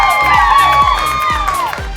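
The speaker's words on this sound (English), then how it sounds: "Everybody give a round of applause for being here tonight." A live studio audience cheering and whooping for a gaming talk show, a brief dense burst of crowd voices with rhythmic thumps underneath, fairly loud and close throughout.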